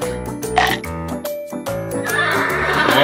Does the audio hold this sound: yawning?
no